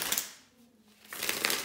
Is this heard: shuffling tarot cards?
yes